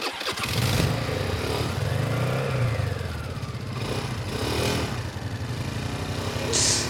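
A motorcycle engine starting and revving: a steady, loud rumbling idle with rising and falling revs across several seconds, close by, with faint speech in the background.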